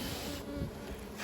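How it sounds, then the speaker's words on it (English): Honeybees buzzing steadily at a beehive entrance, a dense continuous drone of many insects close by, holding at an even level for the whole short stretch. "We just want the bees to come and go through the entrance."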